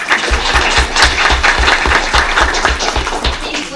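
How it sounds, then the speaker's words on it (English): Audience at a parish school board meeting applauding, a dense burst of clapping with strong rhythmic thumps running throughout, loud and close, no talk. "Give her a round of applause."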